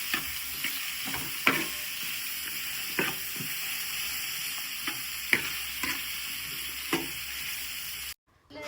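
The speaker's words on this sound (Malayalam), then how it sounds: "കുറച്ച് ഇഞ്ചി വെളുത്തുള്ളി പേസ്റ്റൊക്കെ ഇട്ട് നന്നായിട്ട് മസാല റെഡിയാക്കി എടുക്കുന്നുണ്ട്" Onion and ginger-garlic masala frying in coconut oil in a pan for Kerala fish pollichathu, a soft steady sizzle broken by sharp, irregular clicks and scrapes of a spoon stirring, ending in a brief cut to silence.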